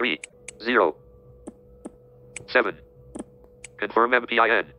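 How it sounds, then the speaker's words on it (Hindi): Taps on a phone's on-screen keyboard while entering a PIN in a banking app with a screen reader, heard as sparse single clicks spread through the clip between bursts of synthetic speech feedback. "मैं यहाँ पर कोई इस बार एक कोई यूनिक सा नंबर एंटर करता हूँ"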